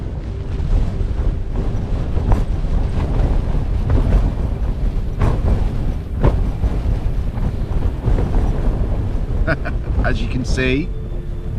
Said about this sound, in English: It's a wet one, it's a windy one.